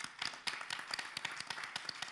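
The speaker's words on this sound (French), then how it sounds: "Et puis on vous applaudit" Audience applause at a plenary meeting for Cantal mayors and town hall secretaries, a fairly quiet scattering of individual claps at uneven pace that rises and dips over about two seconds.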